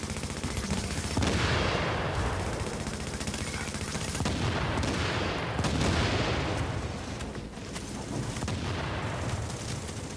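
Dense, continuous automatic gunfire from enemy hip-fire in a The Division gunfight, loud and sustained bursts with booming reports overlapping throughout.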